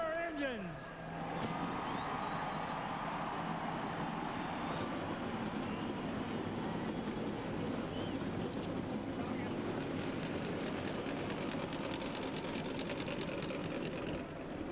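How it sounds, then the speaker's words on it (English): NASCAR race car engines at Texas Motor Speedway for the 2001 Harrah's 500, firing up together into a dense, sustained roar under a crowd and an announcer's voice. "Gentlemen, start your engines."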